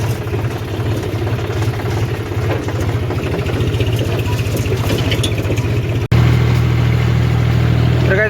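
A tractor engine runs at a steady low throb close by, then cuts briefly and returns louder and deeper for the last couple of seconds.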